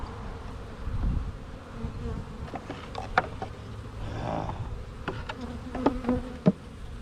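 Honeybees buzz steadily around a queen mating nuc box throughout, with a few louder passes close by and some knocks and bumps in the background.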